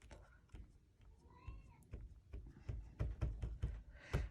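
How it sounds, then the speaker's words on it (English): A pet cat letting out drawn-out, strained meows that sound distressed, a few rising calls near the middle of the clip among soft thumps and handling noises in a quiet room. "My cat sounds like she's dying."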